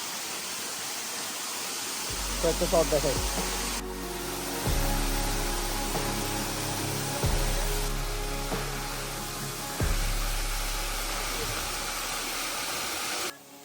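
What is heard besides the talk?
waterfall on the Komoldah trail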